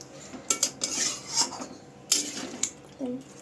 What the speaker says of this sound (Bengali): অল্প অল্প করে এখানে জল অ্যাড করব আর হাই ফ্লেমে আমি মাংসটা কষিয়ে নেব